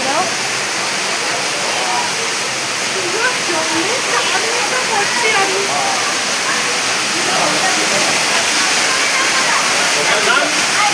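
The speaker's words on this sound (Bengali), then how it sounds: "একটা খুব ভালো ঝর্ণা আছে।" A waterfall in Meghalaya pours with a steady, dense rush of falling water that stays loud and even throughout, with faint voices underneath.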